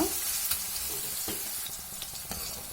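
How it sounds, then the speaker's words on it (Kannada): Bottle gourd being fried in a pan for chutney, a steady close sizzle with scattered clicks of stirring throughout, no voices. "ಹಸಿ ವಾಸನೆ ಹೋಗೋ ತನಕ ಫ್ರೈ ಮಾಡ್ಕೋಬೇಕು"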